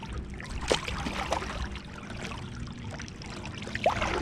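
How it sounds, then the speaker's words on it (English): A fishing kayak is paddled across a lake, the blade dipping and pulling through the water in soft, uneven splashes and trickles close by, with a couple of sharper strokes standing out. No talking. "now we're gonna paddle back and get back on top of them."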